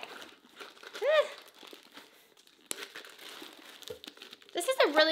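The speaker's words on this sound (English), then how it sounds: "This is cute little tissue paper, so let's see what we have." Tissue paper crinkles and rustles in short bursts during a makeup PR unboxing, close and fairly loud, with someone talking over much of it.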